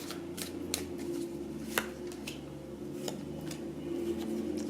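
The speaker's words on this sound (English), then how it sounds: "Let's shuffle this one" Tarot cards are shuffled by hand at close range, giving soft papery riffles and scattered sharp flicks and taps over quiet room hum.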